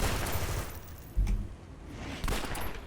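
Gunshot-like crossbow attack sounds from Circle of Thorns enemies in the video game City of Heroes, with two sharp, loud bangs a second apart over a steady background din.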